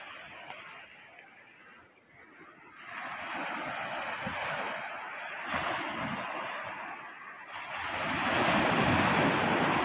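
Sea waves wash onto the shore with a broad, steady roar that swells louder toward the end, mixed with wind noise on the microphone and no speech.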